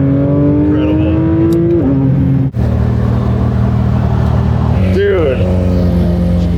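A 992-generation Porsche 911 GT3 RS accelerating hard on a racetrack, its engine droning loudly as it climbs through the revs, briefly cutting out during a gearshift and then pulling again, with a voice talking over the engine.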